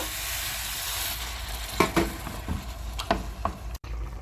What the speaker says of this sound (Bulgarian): Разбърквам да се омеша с лука и с чесъна.